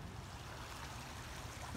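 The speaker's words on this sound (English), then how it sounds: "I'm gonna show you the little creek right here." A small creek flows around a resort property in the Great Smoky Mountains near Townsend, Tennessee, giving a steady, faint wash of running water with no one talking.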